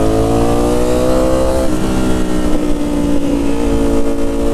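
A Ducati StreetFighter V4 S motorcycle engine runs loud and close with a rich harmonic growl, revving with a dip in pitch partway through before settling into a steady roar; no voices.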